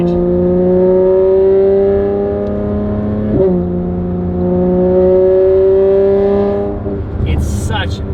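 A Porsche 992 GT3 RS flat-six with a titanium race exhaust and free-flow headers revs hard and steadily climbs in pitch, with a brief shift in tone partway through as the cam changes. The engine is loud and close, with no voices.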